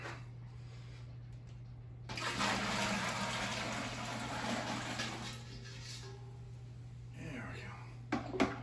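Liquid pours steadily into a beer brewing vessel for a few seconds with a soft splashing wash, over a constant low hum, then tapers off and ends with a couple of small knocks.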